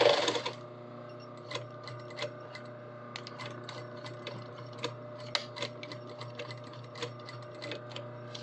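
Sewing machine stitching a row on a shirt, a quiet steady mechanical hum with soft rhythmic ticks and occasional louder clicks, running continuously at close range.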